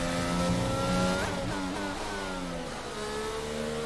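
A Formula 1 car in F1 22 screams at high revs through a qualifying lap at the Abu Dhabi GP. The engine is loud and close, with pitch rising and falling through gear changes, and no talk over it.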